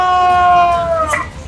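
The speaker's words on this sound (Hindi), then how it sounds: "लखनऊ पुलिस डायल 100 की गाड़ी में आम सायरन की जगह जागते रहो वाला सायरन इस्तेमाल कर रही है" A Lucknow police Dial 100 patrol car siren sounds its 'jagte raho' call, a loud, bright, harmonic tone that holds steady and then glides downward, standing alone with no talk over it.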